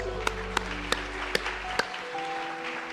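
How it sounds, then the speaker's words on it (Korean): During an Easter intergenerational church service, a handful of sharp, loud claps ring out over a sustained keyboard chord. The chord cuts off partway, leaving quieter room sound with a faint lingering tone. "주님께 영광의 박수 올려드리겠습니다"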